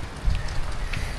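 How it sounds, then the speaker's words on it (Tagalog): Steady rain falls in Nepal, a soft, even wash of hiss with faint scattered drops, growing heavier, with no one speaking. "lumalakas ang ulan"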